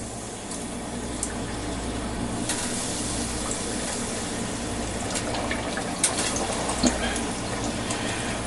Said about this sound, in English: we'll take the first batch of the nuggets and we'll drop them in, preferably without splashing oil on myself.